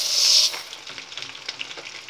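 Rice stirred in a pot of hot ghee, a loud bright sizzle at first that quickly drops to a softer crackle with scattered scraping from the spoon.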